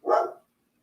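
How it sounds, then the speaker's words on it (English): A single dog bark from a dog outdoors, short and fairly close, standing alone with silence after. "My damn dog's outside barking."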